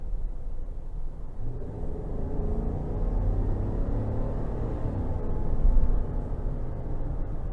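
A 2022 Chevrolet Silverado 1500 LT Trail Boss with a 5.3 engine pulls hard under acceleration in normal mode, a steady low engine rumble heard from inside the cab that swells briefly near the end.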